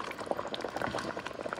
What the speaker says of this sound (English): this liquid start boiling